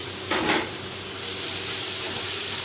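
Onions and tomatoes sautéing in a pan for tomato chutney, a steady close sizzle and hiss with a brief louder burst of spitting near the start.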